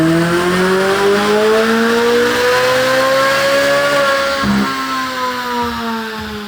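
A stock 2025 Corvette C8 Z06 with its naturally aspirated V8 revs hard on a chassis dyno. The loud engine note climbs steadily in pitch for several seconds, then drops sharply on a shift and climbs again, with no talking.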